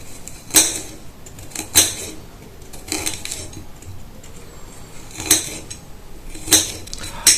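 A knife finely chops garlic cloves for a traditional Greek salad, giving a handful of sharp, crisp taps on a board, spaced irregularly over quiet kitchen background.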